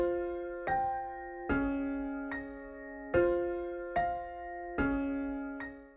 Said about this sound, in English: With Halftime added, our melody already sounds like this.